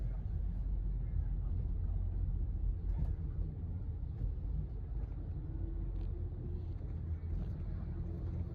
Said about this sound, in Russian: И вот наш автобус подъезжает к музею Mercedes-Benz.